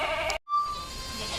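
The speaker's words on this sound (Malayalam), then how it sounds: "വീട്ടിലാടുകൾ, ക്രോസ് ബ്രീഡ് ആടുകളൊക്കെ ഉണ്ട്." A goat on a Kerala farm, where local and crossbreed goats are kept, gives one clear, fairly close bleat after a brief pause in the background noise.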